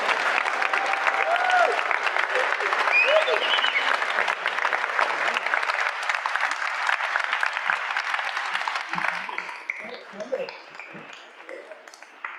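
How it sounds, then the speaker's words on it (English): A church congregation at a Unitarian Universalist flower ceremony applauds new members, steady loud clapping from many hands filling the room for about nine seconds before thinning out into scattered claps and quiet. "let's once again applaud their decision to bless this congregation with their presence"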